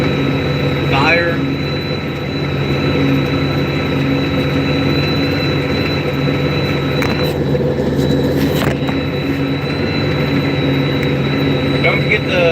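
A 380 HP CAT 85D tractor pulls tillage equipment across a cornfield in fall, its engine a loud, steady, close-up drone with a deep rumble and constant harmonic whine that holds unbroken throughout.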